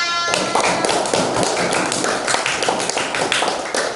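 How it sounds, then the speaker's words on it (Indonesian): Indonesian schoolchildren in a classroom applaud together, a dense, fast patter of many small hands clapping close by with some thumps, continuing for four seconds. "Tepuk tangan untuk kita semua"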